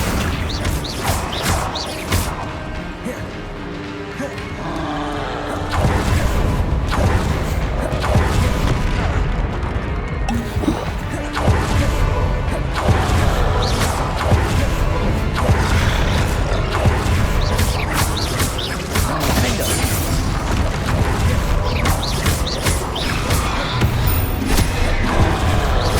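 Confringo spell blasts in Hogwarts Legacy, loud booming impacts and crashing debris hammering one after another in dense combat, with a louder, heavier stretch from the middle onward and speech mixed in at times.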